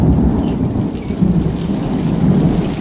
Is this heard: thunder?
yes